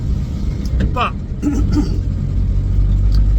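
A small car's engine hums and rumbles steadily on the road, recorded close up on a phone, with someone talking over it for much of the time.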